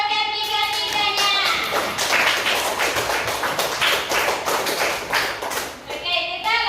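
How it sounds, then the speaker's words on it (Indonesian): An audience at an Indonesian school presentation claps, a dense burst of applause under a voice speaking at the start and end. "kita kasih aplaus untuk ketiga-tiganya"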